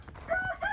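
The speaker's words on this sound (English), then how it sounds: "our non-silky or fluffy chickens" Non-silky chickens in a tarped, heat-lamp-warmed coop during the 2021 Oklahoma City blizzard give two short, close crowing squawks, one after the other, over a low steady hum.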